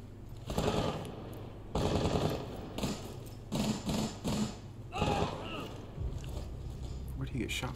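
Gunfire in the Rainbow Six: Siege video game, bursts of rapid shots in clusters with pauses between, mixed with players talking over the action.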